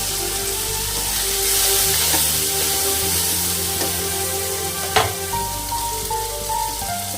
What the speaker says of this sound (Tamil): தக்காளி நல்லா வதங்குறதுக்கு மஞ்சத்தூள் போட்டால் தக்காளி சீக்கிரம் நல்லா வதங்கிடும்